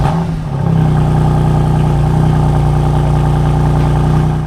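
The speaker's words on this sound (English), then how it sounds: "I'll put a little clip here to show you exactly how it sounds when you start the car on a complete cold start" A BMW F80 M3 with its exhaust valves open fires up from a complete cold start, catching after a half-second and settling into a loud, steady, throaty idle rumble close by.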